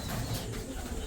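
Pigeons coo softly in a low, muffled murmur at a place where they nest among farm animals such as goats, steady and fairly faint with no talk.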